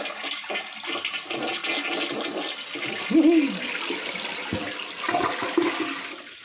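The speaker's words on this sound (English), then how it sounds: "So let us do our first flush." A repaired loose toilet flushing, a close, steady rush of swirling water lasting several seconds with gurgling surges near the middle and end as the bowl drains and refills.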